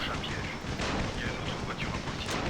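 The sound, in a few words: firecrackers exploding in the video game Dying Light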